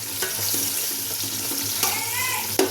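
Onions dropped into a pan to fry in a home kitchen, a steady sizzle over a low hum, with a few small clinks and a sharper knock near the end.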